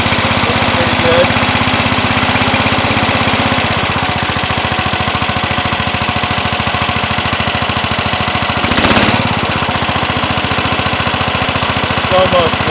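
A Cub Cadet 107 garden tractor engine idles shortly after a cold start, a steady close-up chugging drone with a rapid even pulse and a brief louder burst near the end.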